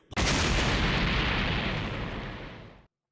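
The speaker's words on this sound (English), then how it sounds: "Insert explosion here." A loud cartoon explosion effect booms in after a brief click and fills the whole stretch, then holds a sustained roaring rumble that fades slightly before cutting off abruptly near the end.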